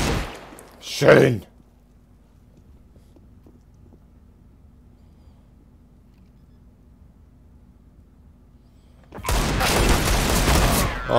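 Shotgun blasts from a video game: a sharp burst early on, then a long stretch of near-quiet hum, then heavy sustained firing and noise to the end, with a voice speaking briefly.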